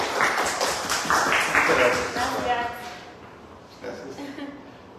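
An audience at a workshop closing in Tijuana applauds a doctor, several seconds of steady clapping under a speaker's voice that fades toward the end.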